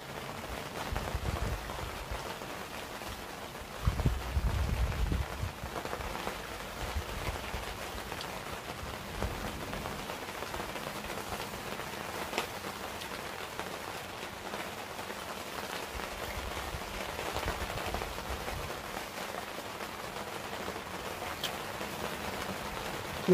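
Steady rain falls on a vegetable garden where lettuce grows, a dense continuous hiss with faint drops and occasional louder patches, and no one speaking.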